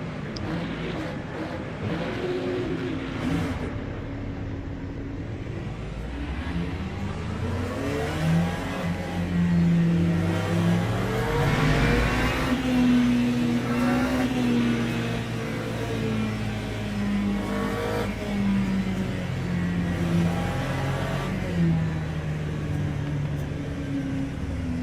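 Several GT3 race car engines drone together on a formation lap in the Le Mans Ultimate racing sim. The loud, continuous hum rises and falls in pitch as the cars weave and change gear.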